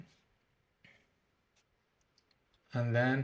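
A computer mouse clicks a download link on a web page while installing VMware Workstation Pro on Windows, a few faint single clicks spaced apart in near silence, then a voice speaks loudly at the end.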